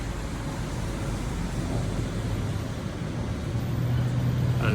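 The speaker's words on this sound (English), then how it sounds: "And lots of traffic." Night street traffic in Bangkok's Nana Plaza and Soi 4 party district: a steady, fairly loud rumble of passing cars and engines, continuous with no clear voices.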